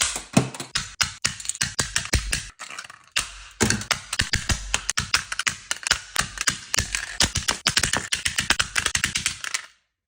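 Rapid computer mouse clicking, a dense run of sharp, close clicks in quick bursts with short pauses, lasting nearly the whole stretch before stopping abruptly.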